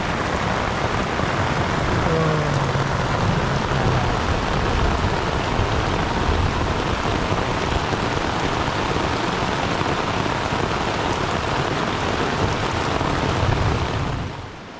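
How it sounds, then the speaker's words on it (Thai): Rain falls steadily at a quiet, shady campsite, a dense constant patter continuing without break, with a faint voice briefly audible underneath. "ฝนตก"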